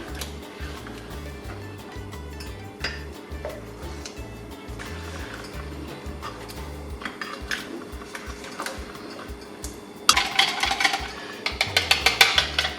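Pineapple filling with a cinnamon stick and sugar is stirred in a pot, a spoon clinking and scraping in a steady rhythm against a low hum, growing louder and busier near the end.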